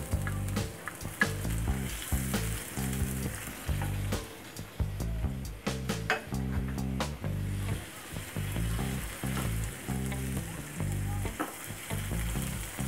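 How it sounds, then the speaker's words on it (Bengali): Ginger-garlic juice hits browned fried onions in a hot pan for fish kebab, and a loud, continuous close sizzle runs throughout, broken by rhythmic scraping stirs, with no voices. "এখন আমি দিয়ে দিব আদা রসুন বাটা।"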